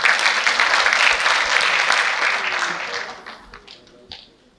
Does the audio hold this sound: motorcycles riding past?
no